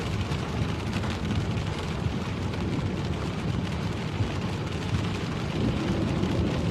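Rain falls in Spain as a steady, dense broadband hiss with a low rumbling undertone, continuous and fairly loud throughout, with no voices.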